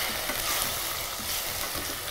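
Pineapple pieces fry in hot ghee in a pan, giving a steady, loud, close sizzle with a dense crackle and no talking over it.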